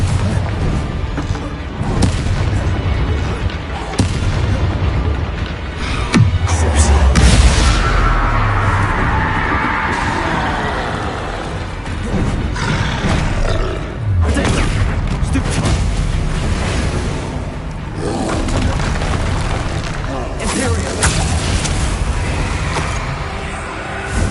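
Booming blasts and crashing impacts from Bombarda and Confringo explosion spells in Hogwarts Legacy, loud and dense over a continuous game soundscape, with a rumbling swell partway through and a voice speaking the spell names.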